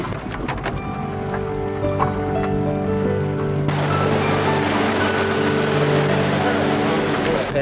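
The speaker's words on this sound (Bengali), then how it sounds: "বাইরে প্রচণ্ড বৃষ্টি পড়ছে।" Heavy rain pours outside in Lingtam, East Sikkim, a dense, steady hiss that swells noticeably partway through, layered over a low vehicle-like hum while a voice speaks.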